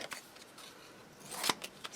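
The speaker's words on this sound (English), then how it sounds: "I'm going to take my big scissors and sort of cut these apart" Big scissors slice apart an antique voter's registration card in a few quick, faint snips, with a cluster of crisp cuts near the end over a quiet room.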